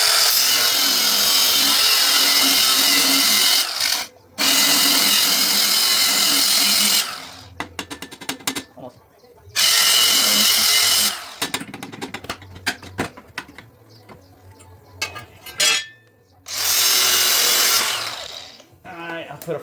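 Cutoff wheel grinding through metal while converting a Ryobi RM480e electric mower into a gas go-kart, loud harsh whining bursts of several seconds each, broken by pauses and sputtering cuts, with some talk between.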